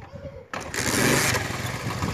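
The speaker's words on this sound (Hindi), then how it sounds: "सबसे पहले मोटरसाइकिल को स्टार्ट कर लेते हैं।" A motorcycle engine that is being used to pump water from a tank cranks and then catches. It quickly settles into a loud, steady running drone close by.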